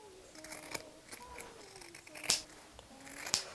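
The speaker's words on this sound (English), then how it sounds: "we're going to cut away the seam allowance, especially right here in the edge here" Scissors snip through sewn fabric, cutting away the seam allowance at the edge of a handmade outfit, with a few close, crisp cuts spaced irregularly over a quiet background.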